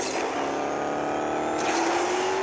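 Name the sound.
Chevrolet Camaro GS car racing in video game Asphalt 8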